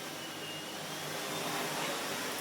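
A vacuum cleaner runs steadily at close range, a constant broadband whoosh that swells slightly louder near the end, with no talking.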